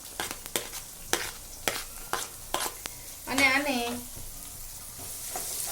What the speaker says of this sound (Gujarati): અહીંયા મેં જે ડુંગળી લીધી હતી એ બી આની અંદર નાખી દઈશ